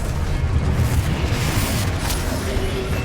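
Confringo blasting spell explosion in the Hogwarts Legacy video game: a loud, sustained booming rumble with a burst, heavy low-end roar throughout, dense and close.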